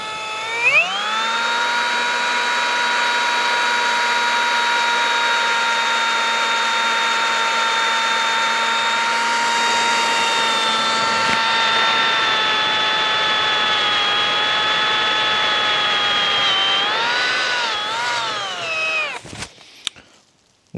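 An AEG BSB18BL2 cordless drill runs in first gear and drilling mode with a 5 mm bit, giving a loud, steady motor whine that holds for most of twenty seconds, then wavers and stops.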